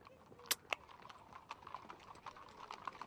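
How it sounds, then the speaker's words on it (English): Horse hooves clip-clopping in the Sorcery! video game, a faint, uneven series of light knocks and taps spread across a few seconds, a couple of sharper clicks near the start, quiet and without talk. "They have, however, left a fine stallion only loosely tied up outside."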